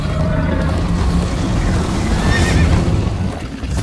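A horse whinnies during a chase ride in the video game Minecraft Story Mode, a loud neigh over a steady rush of wind and galloping movement.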